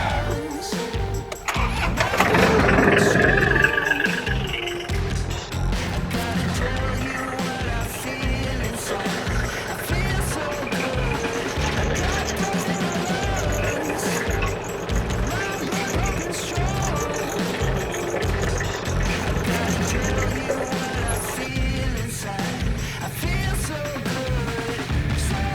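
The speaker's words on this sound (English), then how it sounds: "Start the tractor up and we'll give her a shot." Tractor engine cranking over and catching, then running steadily at a loud, rough idle close by for a long stretch, with clanking mechanical noise layered on top.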